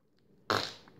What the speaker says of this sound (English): I promise I'm not farting. But it sounds like I am, because of the slime.